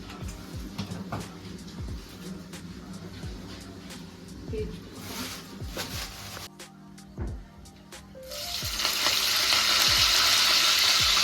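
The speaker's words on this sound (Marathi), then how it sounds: "आता मला वाटतं खडा मसाला सगळा आपण आता फ्राय करायचा आहे" Whole spices sizzling in a little oil in a pan, with scattered clinks and stirring sounds through the first part, then a louder, steady hiss of frying that builds near the end.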